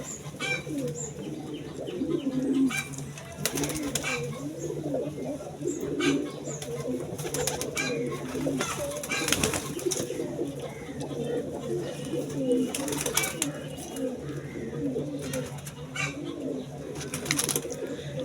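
Pigeons coo steadily in a low, rolling chorus, with occasional chirps and faint wing flaps throughout, close and continuous.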